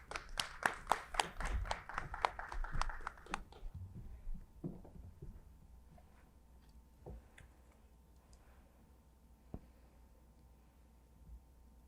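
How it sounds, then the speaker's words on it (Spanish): Audience at an economic development and prosperity conference claps to welcome a speaker to the stage, a brisk burst of hand claps lasting about three seconds before fading into a quiet room with a few scattered taps. "Recibimos con un fuerte aplauso"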